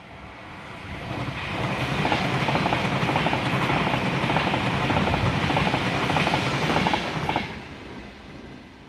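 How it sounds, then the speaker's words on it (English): Pendolino train rushing past close by, a loud steady roar with rhythmic wheel clatter that swells in, holds for several seconds and then drops away, with no talk. "I couldn't speak because of a train passing"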